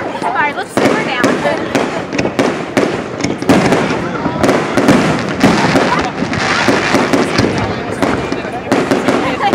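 Fireworks at a New Hope display on August 3rd, loud rapid crackling bursts and booms packed closely together, with people talking underneath.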